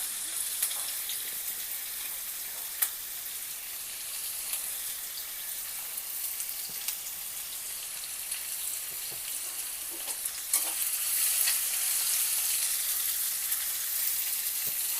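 Carrot and capsicum fry in a pan for jackfruit seed pulao, making a continuous bright sizzle with occasional light taps and scrapes of stirring, growing slightly louder near the end.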